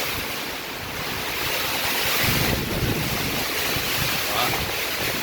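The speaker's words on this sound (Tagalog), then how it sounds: "Kaya grabe ka basugon ang hangin." Strong typhoon wind in Capiz roars continuously, buffeting the microphone with heavy gusty rumble and broad rushing noise throughout.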